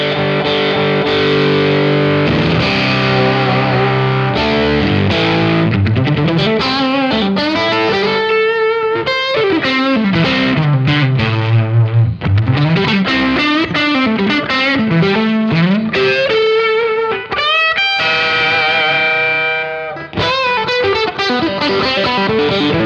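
Electric guitar run through a Red Witch Epiphanious overdrive pedal with its switch down, swept across the gain range; continuous loud driven chords and melodic runs with moderate distortion, no talking.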